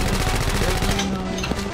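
Rapid automatic gunfire crackles in a multiplayer shooter match, loud and close, in quick bursts that thin out partway through while players talk over it.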